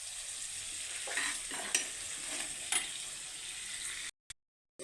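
Onions sautéing with salt in a pan for crab curry, a steady sizzle with a few stirring scrapes, close and fairly faint, cutting off near the end.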